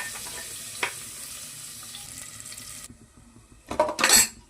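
Mustard seeds, garlic and curry leaves sizzle in hot oil, a steady faint crackle with a sharper burst of spattering near the end, no talk.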